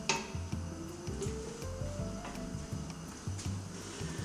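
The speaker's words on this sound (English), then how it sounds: "So my mixture has started to full boil" A strawberry and apricot jam mixture coming to a full boil in a pot, with soft bubbling and faint clinks of a utensil against the pan, quiet and close with no talking.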